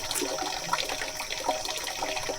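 Cold spring water flows steadily near a chapel in Hugpa, Biliran, a continuous close hiss and splash with no voices.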